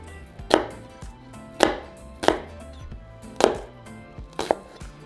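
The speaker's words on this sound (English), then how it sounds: "we're going to chop our other half of the onion and cilantro" Knife chopping onion and cilantro on a cutting board for basket tacos: five distinct, fairly loud thuds spaced unevenly about a second apart, close by with no talk.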